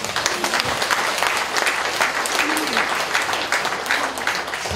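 Sustained applause from a large audience at a Buddhist dharma ceremony honoring monks, dense steady clapping filling the hall for about five seconds with faint voices underneath.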